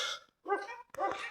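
A dog gives two or three short, sharp barks in quick succession, fairly faint and with no other sound around them.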